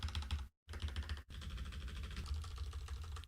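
Fast, continuous clacking of typing on a HyperX Alloy Origins mechanical keyboard, close and steady, with two brief silent gaps early on.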